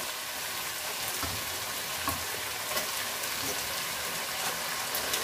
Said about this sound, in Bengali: তো এখন আমি মাছগুলা দিয়ে দিব।